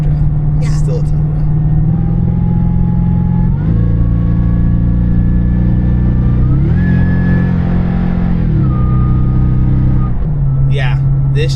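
Toyota Tundra pickup truck accelerating hard while towing a load, its engine note climbing steadily through several shifts with loud, close rumble and rising whine, while people talk over it.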